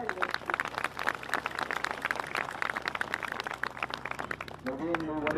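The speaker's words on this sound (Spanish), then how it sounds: "vamos a brindarle fuertes aplausos también" An audience at a church welcome for a new priest breaks into strong, dense applause that carries on steadily, with voices rising over it toward the end.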